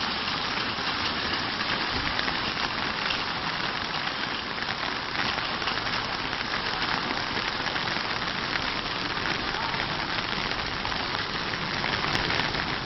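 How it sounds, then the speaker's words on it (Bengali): Heavy rain falls in Riyadh, Saudi Arabia, a dense steady hiss of drops pounding surfaces, loud and constant throughout with no voices. "কি বৃষ্টি রে ভাই।"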